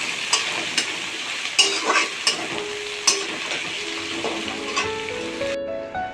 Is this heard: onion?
yes